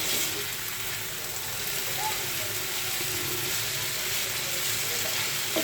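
Potatoes with turmeric and salt frying in a pan, a steady, even sizzle and hiss throughout with faint stirring movement underneath, no speech.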